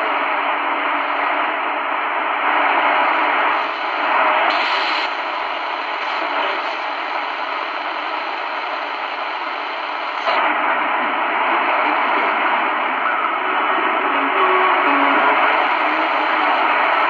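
A Tecsun PL-450 shortwave radio hisses with steady, loud unmuted static while being tuned, the rushing noise shifting slightly in tone as the dial moves, continuous and close with no voices.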